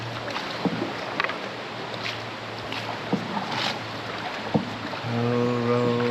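Oars dip and splash in water at uneven intervals as a boat is rowed at Pagsanjan Falls, Laguna, Philippines, over a constant low hum, with a louder steady drone rising near the end.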